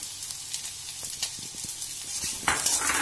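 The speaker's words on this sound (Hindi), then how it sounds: "पत्ता गोभी को भी हम 1 मिनट तक भून लेंगे" Shredded cabbage with onion and carrot stir-fried in a pan for chowmein, a low steady sizzle with light clinks of a utensil against the pan, swelling into a louder hiss near the end.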